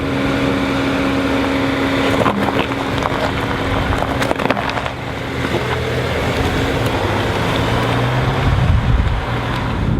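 A Volvo XC40 T5 drives on the road with a steady, loud rush of road and engine noise, heard from inside the car as a constant drone with a few faint knocks.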